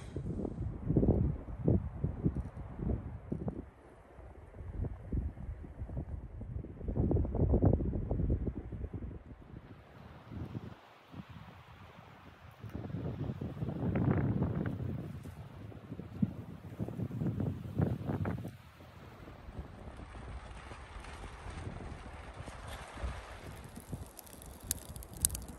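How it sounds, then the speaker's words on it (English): Strong wind gusts at a frozen lake campsite roar and buffet the microphone in long surging waves, loud and continuous with brief lulls, with no talking. "it is so windy"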